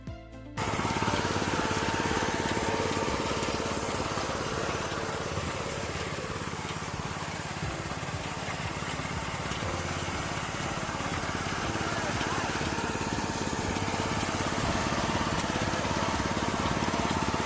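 A VST Shakti power reaper's petrol engine runs continuously at a steady, loud drone after a brief start, with a rough mechanical buzz throughout.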